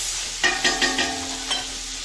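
Onions and sweet pepper sizzle in a pan on the stove for coconut rice, with a few close scraping stirs of a utensil over a steady frying hiss and no talking.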